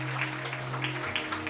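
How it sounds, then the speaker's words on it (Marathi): Church congregation applauding loudly and continuously in a brief burst, dense clapping over a sustained low hum from the sound system. "जरा जोरदार टाळ्या प्रभूसाठी."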